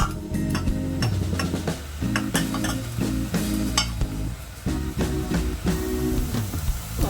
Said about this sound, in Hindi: अब दूसरे पैन में ऑयल डाल के तो दूसरे मसाले तैयार कर लेते हैं,